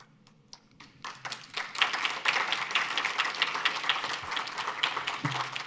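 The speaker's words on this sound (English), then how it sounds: "Thank you for that applause line." Applause from an audience at a synagogue leadership award event, beginning with a few scattered claps that swell into moderate, steady clapping from a modest crowd in the room.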